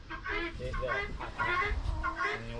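Chickens being moved onto a horse-drawn chicken tractor on a draft horse farm cluck and squawk in a steady busy run close by, with a person talking over them.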